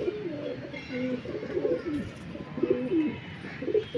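Racing pigeons coo close by in soft, repeated rolling calls, several birds overlapping in an uneven rhythm, moderately loud against quiet outdoor background.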